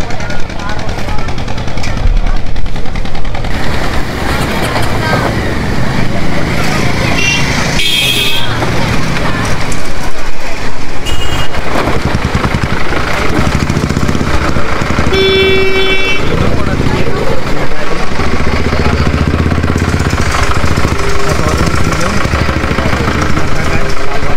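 Vehicles queue and pull up at a river ferry ghat at Khoshbagh to board a boat, engines running and idling nearby with a horn toot, amid loud, busy crowd noise and voices.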